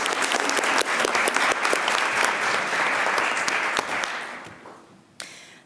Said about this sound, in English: let's just give her a round of applause really quick